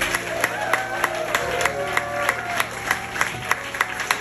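A concert crowd aboard a heavy-metal cruise ship applauds and cheers together, steady clapping with whoops rising over it, sharp regular claps standing out near the mic.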